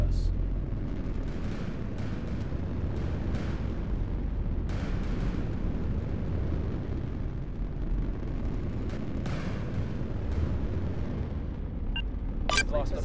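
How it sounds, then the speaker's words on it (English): A space battle video game rumbles with dense, continuous low booming from gunfire and explosions, with scattered sharper bursts and a few high electronic blips near the end, and no voices. "They're shooting at us."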